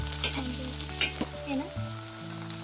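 Peanuts fry in a pan as part of making gongura pickle, a steady close sizzle broken by several sharp stirring scrapes and clicks, with no voices.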